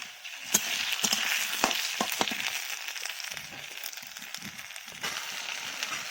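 Koi fish fry in a pan with a ginger, cumin and coriander paste, giving a steady close sizzle broken by scattered crackles and the scrape of stirring. No voices are heard.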